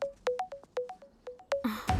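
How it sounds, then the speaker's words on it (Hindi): A mobile phone rings for an incoming call with a quick, repeating melodic ringtone of clear, bright beeps. A short burst of noise follows at the very end. "मेरी दीदी फोन कर रही है।"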